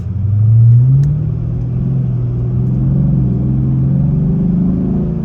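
A Chrysler 300C SRT8 with 77,000 miles pulling away on an early-morning drive, its deep engine rumble swelling briefly then settling into a steady low drone from inside the cabin.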